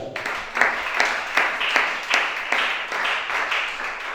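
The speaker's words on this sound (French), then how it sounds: "Acclamez chacun." A church congregation claps in a steady, rhythmic beat, roughly two claps per second, with evenly spaced loud claps continuing throughout.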